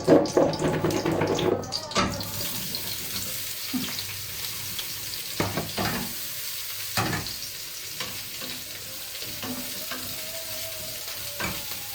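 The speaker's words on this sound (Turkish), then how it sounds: "Şimdi bu patlıcanları da kızartacağım." Oil sizzles and crackles steadily as eggplant fries, with occasional clatters and stirring sounds from a pan up close.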